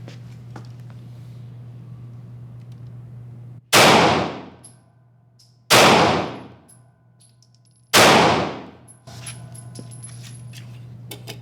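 Three loud, sharp gunshots, each followed by the ringing clang of a steel target, spaced about two seconds apart at a shooting range with a laser-sighted handgun, with low steady hum between them.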